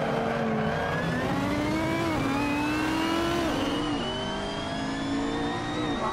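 Simulated race car engines, GT3 and Mazda MX-5 Cup cars in Assetto Corsa at Monza, roar loud and close, revs climbing and dipping through gear changes as cars jostle to overtake, with no voices.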